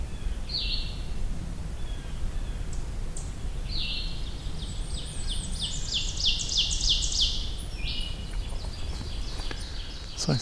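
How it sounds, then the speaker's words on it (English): Blackburnian warbler singing, a high-pitched songbird with several thin, rising buzzy phrases repeated over a steady low background hum, fairly distant and clear. "it's a Blackburnian warbler"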